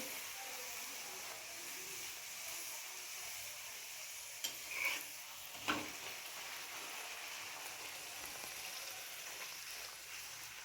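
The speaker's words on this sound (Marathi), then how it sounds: "अशाच पद्धतीने मी दुसरी पुरी पण टाकून घेते व्यवस्थित असे फिरवून घ्यायची" A puri frying in hot oil while being turned, a steady soft sizzle throughout with a few brief clinks and stirring sounds from the pan.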